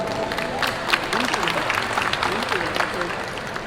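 Sustained applause from a crowd, a dense patter of claps steady throughout with voices mixed in underneath.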